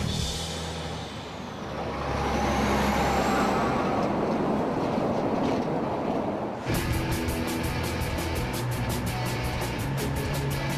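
An Australian road train, a long multi-trailer truck, rumbles along with a heavy, continuous engine roar, loud and close, shifting to a rapid rhythmic clatter partway through.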